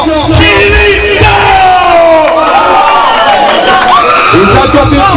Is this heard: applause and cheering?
yes